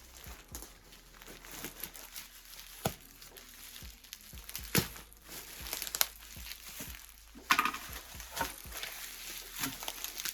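A plastic bag nested inside another bag crinkles and rustles as a lost postal parcel is carefully opened. Irregular close crackles and sharp crumples come in bursts over about ten seconds.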